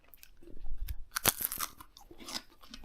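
Close, crisp crunching and chewing of air-fried potato chips, with several sharp bites and softer munching in between, heard alone without speech.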